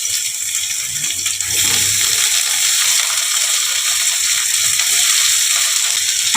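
Cut potatoes go into a hot pan with cumin and chopped onion, and a loud, bright, continuous frying hiss swells after a brief clatter, then holds steady and close.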